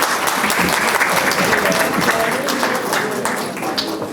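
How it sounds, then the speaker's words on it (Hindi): An audience at a Hindi literary gathering breaks into loud, sustained applause, a thick, even patter of many hands that dips slightly toward the end. "जोरदार तालियां हैं"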